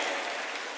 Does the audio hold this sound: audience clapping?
yes